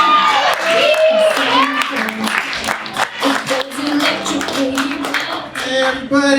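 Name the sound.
audience applause for comedian Zack Yowarski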